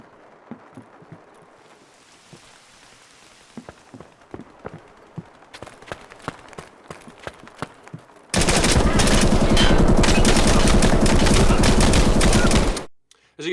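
VSS rifle fire in Escape From Tarkov: scattered sharp single shots at first, then a sustained loud burst of dense rapid gunfire that cuts off abruptly near the end.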